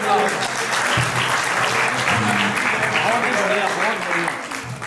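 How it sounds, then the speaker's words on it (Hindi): Audience applause at an Arya Samaj ceremony in a temple hall, a dense, steady crowd clapping that fills the space and holds evenly throughout before tapering slightly at the end, with faint voices mixed underneath. "बोलिए जी, एक बार ताली बजा के बताइए।"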